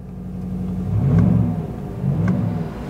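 2024 GMC Sierra AT4 with 6.2 V8 and dual-stage exhaust revving, a loud deep engine rumble that swells twice in quick succession, close and steady, no talking.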